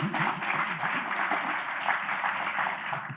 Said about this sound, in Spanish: Me gustaría, sobre todo, que le dierais un cariñoso y fuerte aplauso a Nati